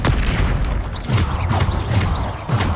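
The Bombarda explosion spell in the video game Hogwarts Legacy goes off as a run of loud, close booming blasts, roughly one every half second, over a heavy rumbling game soundscape.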